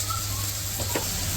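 Chopped onions sizzle in hot oil in a karai as turmeric powder is stirred in, giving a steady close frying hiss with a couple of soft stirring strokes.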